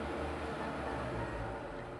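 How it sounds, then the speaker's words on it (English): A delivery lorry arriving at a convenience store in a horror video game, heard as a steady low engine rumble with a broad droning hum, continuous and fairly even throughout. "Is that... a lorry?"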